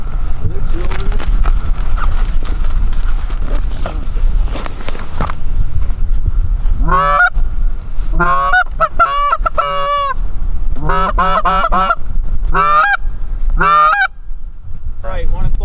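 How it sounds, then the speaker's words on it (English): Canada geese in Pennsylvania goose season honk repeatedly in bursts from about the seven-second mark, loud and close overhead in flight, with hunters' low talk and field noise running underneath throughout. "No, the goose coming back."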